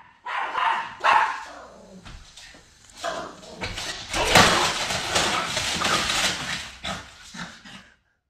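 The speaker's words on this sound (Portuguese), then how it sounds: "Agora vejam como esse cão recebe as correspondências da família." A dog barks several times in short, sharp bursts as the family's mail arrives, followed by a longer stretch of agitated barking and scuffling close by, with no talk over it.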